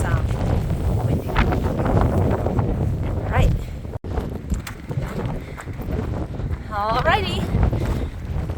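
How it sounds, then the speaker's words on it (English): Strong cold morning wind on the Pacific Crest Trail roars against the microphone in continuous low gusts, with a hiker talking over it throughout. "Crazy windy again, so it's cold."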